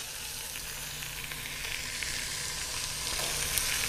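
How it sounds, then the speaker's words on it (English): A roast beef searing in a stainless cooking-system pan, a steady hiss of sizzling fat with faint crackles throughout, close and moderately quiet. "See how the roast is doing? It's searing up very nicely."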